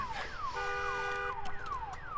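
An alarm siren in the video game Days Gone wails in repeating downward sweeps, loud and continuous, with no voices over it.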